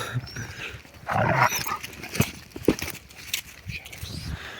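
Dogs playing roughly together, with low growls, snuffles and scuffling bursts close by, alongside a person talking.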